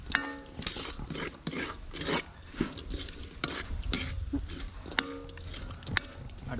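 Chicken meat fries in a pan for Jaffna-style chicken fried rice, a steady sizzle broken by repeated scraping stirs of a utensil against the pan, close and moderately loud.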